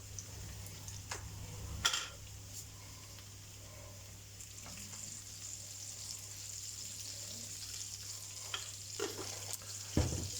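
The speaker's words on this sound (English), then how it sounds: "And we'll leave it there to gently fry away." Sausages, onions and mushrooms fry gently in a pan, giving a steady close sizzle with a few light clicks and knocks, under a constant low hum from a kitchen fan.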